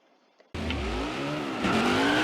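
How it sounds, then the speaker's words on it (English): A NASCAR Heat 5 stock car does a victory burnout at Atlanta. The engine roars in abruptly after near silence and holds a loud, steady revving howl with tire squeal throughout. "the burnouts have begun here from Atlanta"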